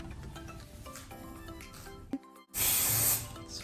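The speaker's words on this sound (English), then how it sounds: "Spray it, like literally like that." A brief click, then a loud close hiss from a spray bottle sprayed onto hair while combing, lasting about a second, over faint background hum.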